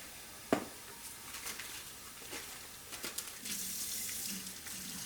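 Tap water runs from a faucet into a sink while water is measured into yeast for Easter bun dough, a steady close splash with a sharp clatter near the start and a fuller rush toward the end.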